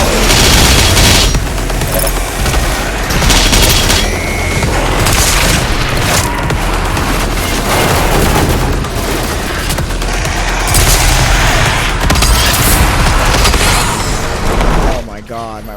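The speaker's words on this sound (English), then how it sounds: "my own fucking rocket hit me" Rocket explosions and rapid gunfire from a video game shooter, a dense, loud, continuous barrage of booms and bursts with a player's voice shouting over it.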